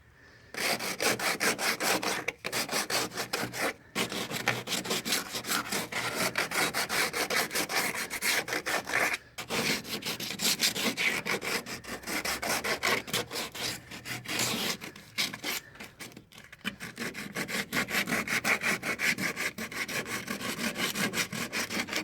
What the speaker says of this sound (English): the other areas just give it a quick scuff with some 80 grit